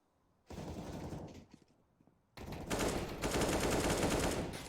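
Automatic rifle fire sprays in loud sustained bursts in the video game Counter-Strike on the Nuke map, a short burst and pause followed by a longer, denser spray.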